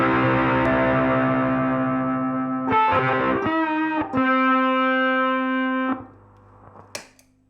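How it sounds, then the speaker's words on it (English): A ukulele played through a crunch distortion pedal rings out in buzzy, sustained overdriven chords that change a few times before cutting off, followed by a couple of faint pluck noises. "Crunch distortion working,"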